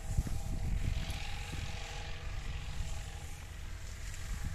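Engine-driven water pump irrigating a wheat field drones steadily and fairly close, a continuous low rumble with faint pulsing and no talk.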